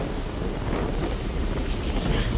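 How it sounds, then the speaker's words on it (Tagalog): Strong, steady wind buffets the microphone on a ship's deck before dawn in a continuous roar, with a low rumble of the ship and water beneath. "ang lakas ng hangin"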